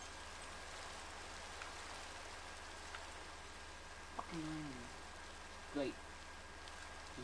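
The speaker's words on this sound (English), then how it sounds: "And it's raining." Steady rain falls in a Minecraft world, a soft continuous hiss at low volume, with a couple of brief in-game creature or tone sounds breaking through.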